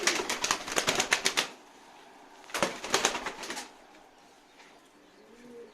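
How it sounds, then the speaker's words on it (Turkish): Pigeons in a coop burst into two short rounds of rapid wing flapping, close and fairly loud, the first about a second and a half long and the second briefer, with quiet rustling between. "Bak kuş bir kanat çırptı bir sürü toz çıktı"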